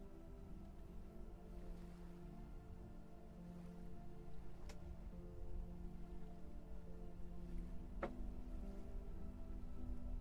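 Steady rain falls in the survival game Vintage Story, a soft continuous wash under a low ambient music bed, with a couple of faint sharp ticks and no talk.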